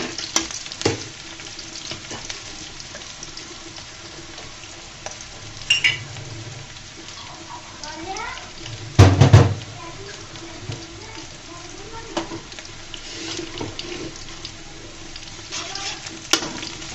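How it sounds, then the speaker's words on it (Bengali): Onion and garlic frying in a pan until brown, a constant close sizzle with occasional stirring scrapes and a loud clatter of a utensil partway through. "এটাকে আমি ব্রাউন কালার করে ভেজে নিব পেঁয়াজ আর রসুনকে।"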